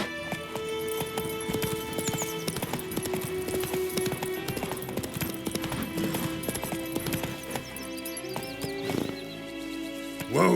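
Roach, a horse in The Witcher 3, trots with clip-clop hoofbeats under steady sustained background music, a neigh rising briefly near the end.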